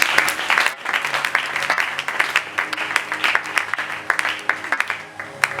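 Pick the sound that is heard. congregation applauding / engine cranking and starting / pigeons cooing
congregation applauding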